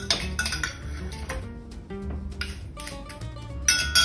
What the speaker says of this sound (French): venez remettre un peu de glace dans votre verre